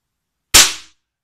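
A Norconia QB57 air rifle dry-fired with no pellet loaded, giving a single sharp snap with a quick decaying tail, close and alone.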